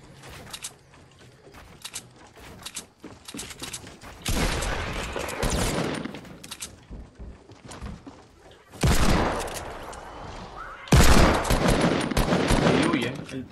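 Fortnite gunfire, with scattered shots early and then loud dense bursts of rapid fire in several waves, close and harsh.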